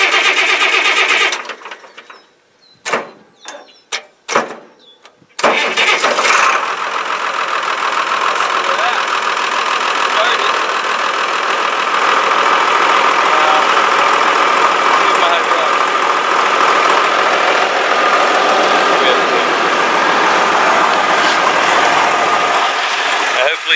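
An International tractor engine cranks with several sharp sputtering catches, then fires and settles into a loud, steady, rough diesel idle that runs close and unbroken for the rest of the stretch.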